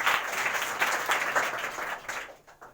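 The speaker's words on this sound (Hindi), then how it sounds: "अरे वाह, ताली बजाओ" Schoolgirls at an inter college clapping together in a short burst of applause that fades toward the end, with no talk over it.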